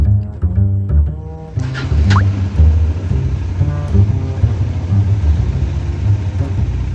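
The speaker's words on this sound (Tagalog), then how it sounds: "Painitin natin makina." A Bajaj Dominar 400 motorcycle engine starts and settles into a steady idle to warm up before an oil change, a close, loud, low rumbling drone that holds evenly.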